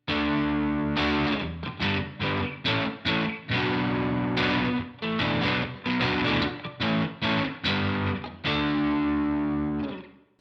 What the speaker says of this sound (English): Now with less distortion,